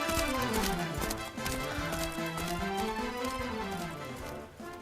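Horse hooves clip-clopping at a steady trot in the game Dragon Quest 11, a rhythmic clatter heard under background game music.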